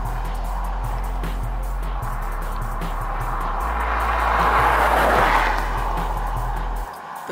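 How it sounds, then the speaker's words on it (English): A car passes on Highway Boca Chica, the access road near the SpaceX Starship site, its broadband road noise swelling to a peak and fading over several seconds against a steady low engine hum from nearby. "there's another car coming"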